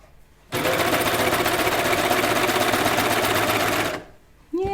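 Stitching a knit T-shirt neckline, a sewing machine hums loud and steady for about three and a half seconds, then stops abruptly, leaving a brief quiet gap before another sound begins.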